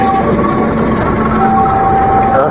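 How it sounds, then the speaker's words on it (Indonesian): Lodaya passenger train on the Solo Balapan–Bandung route rolling past in Yogyakarta, a steady loud rumble of wheels and carriages that fills the whole stretch without breaks. "Iya, ternyata kereta api penumpang, teman-teman."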